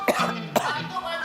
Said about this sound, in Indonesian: Batuk ya.